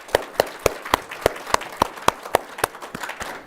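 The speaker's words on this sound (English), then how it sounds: "Let's give him an applause." Applause for a judge at a student invention convention: a short run of brisk, evenly spaced claps about four per second, fairly close and clear, with no talking.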